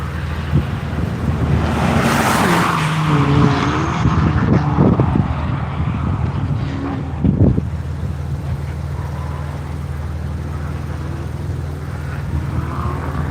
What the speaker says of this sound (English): here comes Scott in the Shadow Buddies Porsche, finishing his first flying lap